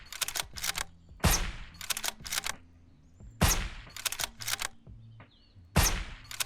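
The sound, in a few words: hunting rifle shots in Surroundead video game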